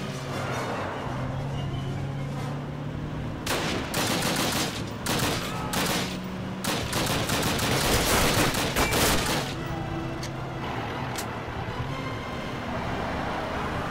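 Automatic rifle fire in the Call of Duty video game on Veteran difficulty, rapid bursts of loud gunshots clustered in the middle, over a steady rumble of vehicle and battle noise.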